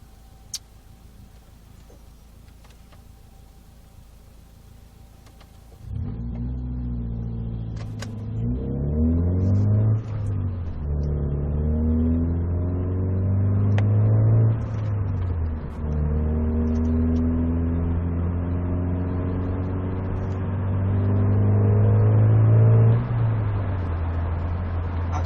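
A Vauxhall Astra Mk4 SXi engine starts from idle and pulls through the gears, its tone rising in several smooth revving sweeps that drop at each shift, loud and close, with no talking.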